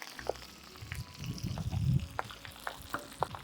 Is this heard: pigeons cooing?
no